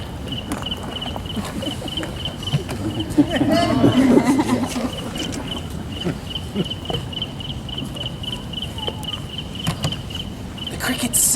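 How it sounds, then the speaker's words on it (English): Crickets chirp at night in a steady, evenly pulsing high trill that runs the whole way through, with faint rustling movement underneath. "The crickets sing"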